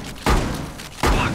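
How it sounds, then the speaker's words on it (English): Two heavy, booming thuds about three-quarters of a second apart as a wall is breached in the tactical shooter Rainbow Six Siege, each a loud, close impact. "Making my own hole in this wall, boys."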